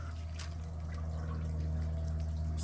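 Water trickling and dripping from a quarter-inch garden drip irrigation line with drippers, a soft steady wash of small drips and flow with faint background hum, no talking.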